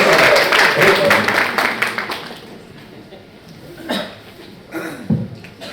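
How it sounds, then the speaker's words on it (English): A meeting audience gives dense applause that fades after a couple of seconds, followed by scattered coughs and a few isolated claps. "And it's a big applause, please."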